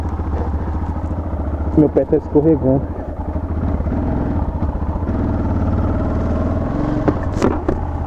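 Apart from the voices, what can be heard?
Yamaha XT660 motorcycle engine running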